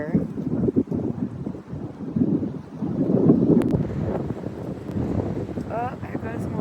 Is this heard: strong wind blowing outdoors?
yes